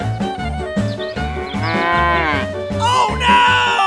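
Cows moo loudly, several drawn-out calls overlapping over a steady rhythmic musical backing.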